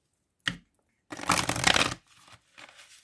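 Tarot cards are shuffled by hand at close range: a quick flick, then a dense burst of riffling and softer card slides afterward.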